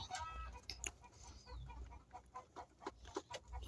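Farm chickens, 18-week-old birds, cluck softly and intermittently nearby, with occasional sharper squawks over a quiet background.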